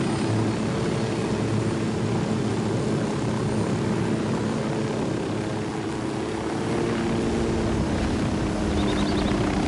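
An aircraft flies in the Ghost Recon Wildlands video game, a loud, steady engine and rotor roar with a constant droning hum filling the whole stretch, no talking.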